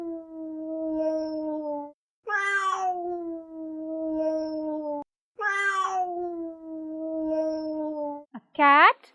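A voice imitates a cat's meow several times, drawn-out wavering tones with pauses between, ending in a short rising cry; no real cat is clearly present.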